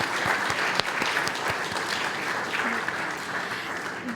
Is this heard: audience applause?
yes